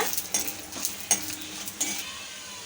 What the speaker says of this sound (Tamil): மிளகா வந்து லேசாக ரோஸ்ட் ஆகட்டும் ஒரு ஒரு நிமிஷத்துக்கு மட்டும் மீடியம் ஃப்ளேம்லேயே வச்சுட்டு வறுத்துக்கோங்க